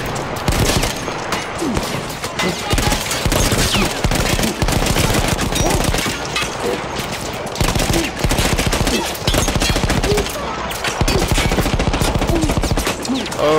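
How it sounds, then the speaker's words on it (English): Rapid machine gun fire in the Battlefield 1 war story Avanti Savoia, loud, dense bursts running almost continuously, with short gaps between volleys and other battle noise mixed in. "that's a machine gun"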